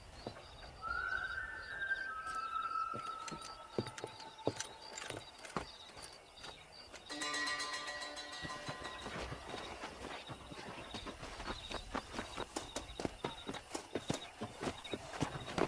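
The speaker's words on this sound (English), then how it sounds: "Control that horse, will you?" A horse clip-clops at a steady walk across ground in the Western game Red Dead Redemption, hoofbeats regular and fairly close, with music and ambient game sounds behind.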